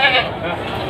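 A goat at the Pasar Legi livestock market in Munjungan, Trenggalek gives one loud, close bleat, brief and sharp above the market din.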